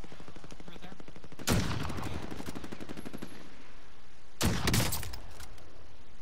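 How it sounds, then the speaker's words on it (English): Two sharp bursts of rapid gunfire in Warzone, each a fast rattling volley lasting about a second, separated by a few seconds of quieter ambient noise with faint rapid ticking. "There's like very light gunfire to your right."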